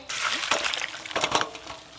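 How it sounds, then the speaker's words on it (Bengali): Cold water splashing over boiled potatoes in a pot, a steady close rush of liquid with a couple of surges, over faint background talk. "ওপর দিয়ে একটু ঠান্ডা জল দিয়ে দেব"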